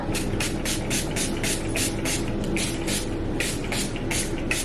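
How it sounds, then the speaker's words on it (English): Moroccan Oil Frizz Shield Spray being misted onto hair in a rapid series of about a dozen short, crisp hissing bursts, close and fairly rhythmic over a low background hum. "This Moroccan Oil Frizz Shield Spray, because my hair gets super frizzy"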